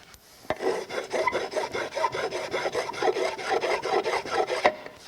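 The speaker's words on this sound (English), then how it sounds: "If we need to file it and clean it up, let's try it." File rasping across a hardened JB Weld epoxy repair of a broken-off tab, about a dozen quick rhythmic strokes at close range with no talk.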